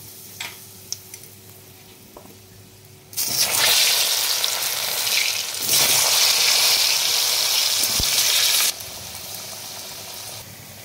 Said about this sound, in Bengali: আমি কচুগুলোকে আগে ভেজে নেবো